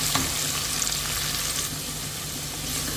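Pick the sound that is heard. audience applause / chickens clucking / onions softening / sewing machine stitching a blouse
onions softening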